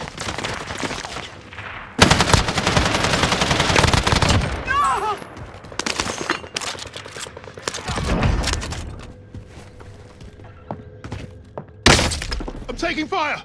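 Gunfire in a battle royale video game: loud bursts of automatic fire and sharp shots, with breaking and shattering sounds, separated by quieter gaps, under radio-style voice callouts.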